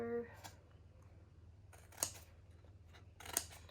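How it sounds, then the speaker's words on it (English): Scissors snip angled notches into pattern paper, a few short crisp cuts spaced apart, quiet and close over a low hum with a faint voice at the start. "we're just going to make our little cuts near our fold lines on a bit of an angle, like so"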